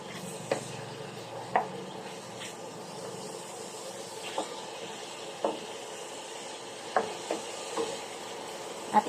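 Adobo sautéing in a pan after a splash of soy sauce, a soft continuous sizzle with occasional sharp spatula scrapes and clicks against the pan at irregular intervals.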